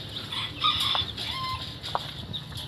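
Bantam and native chickens cluck and cackle in a small backyard cage, with overlapping close calls over a steady background hum.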